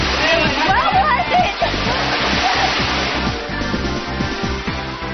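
A waterfall on a hiking trail, being climbed, roars loud and close as a broad wash of rushing water, with splashes and a steady run of low thumps underneath.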